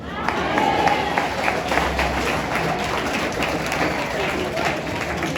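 A church congregation breaks into applause, a thick patter of many hands with a murmur of voices, holding fairly steady before easing off slightly toward the end.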